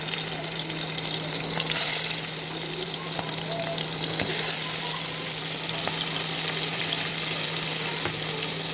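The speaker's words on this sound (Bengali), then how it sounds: "তো চিংড়ি মাছটা সুন্দরভাবে লাল লাল করে ভেজে নেবো" Prawns fry in hot oil in a wok, a continuous dense sizzle and crackle heard up close for nearly nine seconds, with no talk.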